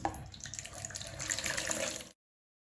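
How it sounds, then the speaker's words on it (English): Tap water runs over mung beans being rinsed and drained in a sink, a short, close splashing flow lasting about two seconds before cutting off. "Now we're going to rinse and drain the beans."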